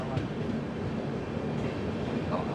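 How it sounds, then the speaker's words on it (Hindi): Shri Ganganagar Hazur Sahib Nanded Express pulling in behind a diesel locomotive, a steady loud rumble of rolling wheels and engine, heard close up with no talk. "श्री गंगानगर हुजूर साहिब नांदेड़ एक्सप्रेस अराइव कर रही है"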